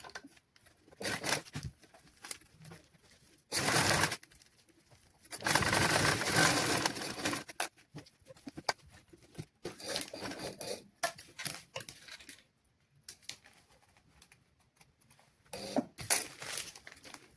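Sewing machine stitching a folded 1 cm seam around children's clothing, running in several bursts of a few seconds each with short pauses between, fairly close and steady.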